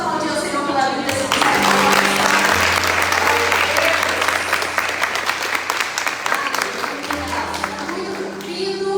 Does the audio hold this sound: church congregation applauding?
yes